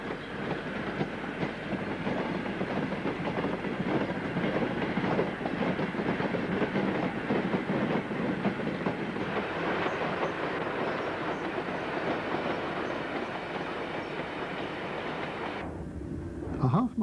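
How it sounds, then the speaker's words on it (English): A merry-go-round freight train rumbles steadily along the Woodhead line near Moor End Junction, a continuous clattering roll of wagons heard at moderate distance for most of the passage before fading out. "another merry-go-round working has been recorded on film. This train will shortly reach Moor End Junction"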